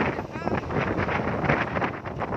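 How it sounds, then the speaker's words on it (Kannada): Strong wind gusts buffet the microphone at Ayyanakere Lake, Chikmagalur, a rough rushing roar that swells and fades for a couple of seconds. "ಏನು ಗಾಳಿ ಬೀಸ್ತಾ ಇದೆ ಅಲ್ಲ?"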